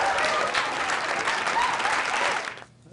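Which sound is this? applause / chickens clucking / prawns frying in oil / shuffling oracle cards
applause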